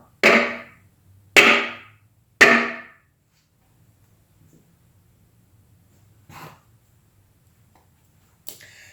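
Three sharp, loud whacks ring out in an even rhythm as the spine of a Hogue Deca folding knife with a crossbar lock is struck against a hard surface, followed by quieter handling knocks and faint rustling.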